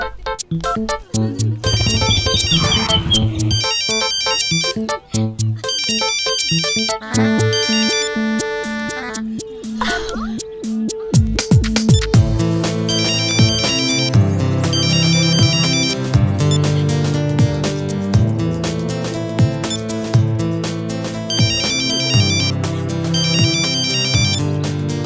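A phone ringtone plays loudly and continuously during a call, a repeating melodic electronic tune that carries on for the whole stretch with no talk over it.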